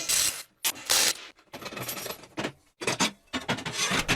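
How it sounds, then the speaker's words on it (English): Bolts being undone and a metal back plate lifted off a machine, heard as a string of close, sharp metallic clinks and clatters with short pauses between them. "I'll take off the back plate, which comes off easily with just these 4 bolts."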